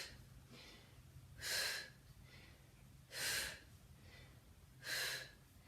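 Heavy, forceful breaths during a Pilates workout: three sharp exhalations about every 1.7 seconds, close and fairly loud over a faint steady hum, with no talking.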